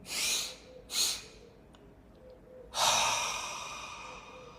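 Deep breaths during a breathing exercise: two short, airy inhales close together, then after a pause a longer, louder draw of breath that slowly fades, close to the mic with no talking.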